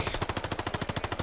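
Rapid automatic gunfire in the video game Warzone Pacific, a tight run of about a dozen evenly spaced shots in just over a second, loud and close.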